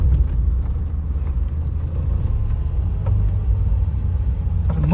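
A Morris Minor's exhaust rumbles steadily just after a cold start, a low, even burble heard close up from behind the car, holding its note for the whole stretch with no voices over it.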